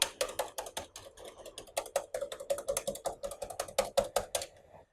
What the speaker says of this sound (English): Last little whisk.